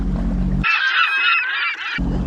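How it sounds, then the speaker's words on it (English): A seagull swooping close gives a loud, harsh honking call lasting over a second, abruptly cutting through low rumbling background noise outdoors in the Adirondacks. "Is that the Seagull?"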